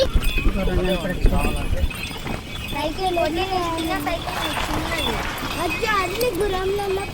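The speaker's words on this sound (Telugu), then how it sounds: "గుర్రం" Horse hooves clip-clop in quick, uneven beats close by while people talk loudly over them.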